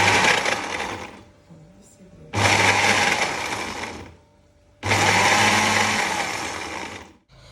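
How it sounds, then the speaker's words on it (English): A countertop blender whirring through aloe vera, three loud bursts of motor roar separated by short pauses, each starting and stopping sharply, close and clear. "Just pour it inside your blender and let's go and blend it."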